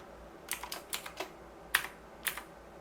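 Computer keyboard typing while editing text in CAD software: a handful of light, close keystrokes in an irregular rhythm, one sharper tap standing out, over quiet room tone.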